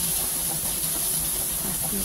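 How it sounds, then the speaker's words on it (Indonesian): Chopped chili spice paste for sambal fries in a pan, giving a loud, continuous sizzle and hiss from start to finish. "lanjut goreng bumbu yang sudah dipotong-potong tadi"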